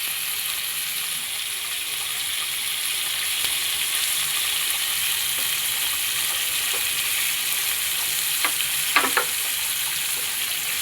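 Ingredients are sautéed in hot oil in a pan while cooking prawn curry and fried mackerel, with a steady close sizzle running throughout and a few small clicks and stirring sounds near the end.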